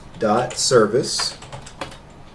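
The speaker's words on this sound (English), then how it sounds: "I'm going to type systemctl enable gdm.service" A Linux command typed on a computer keyboard, a short run of quick, close key clicks that follows a brief burst of someone speaking.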